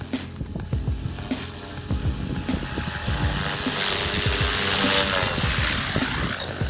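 A radio-controlled JR Forza 450 helicopter comes in to land, its loud whining rotor and motor buzz steady and close, with choppy low blade pulses throughout and no talking.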